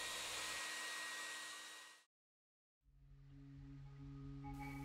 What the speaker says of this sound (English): a hairdryer will speed up the process